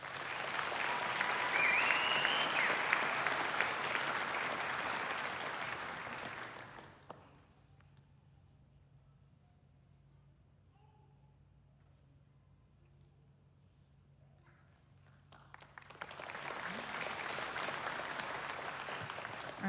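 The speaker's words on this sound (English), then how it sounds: "let's give another round of applause to our class leadership and award winners" Crowd applause at a Florida Highway Patrol graduation ceremony, a sustained round of clapping that drops to near silence midway before a second loud burst of clapping resumes.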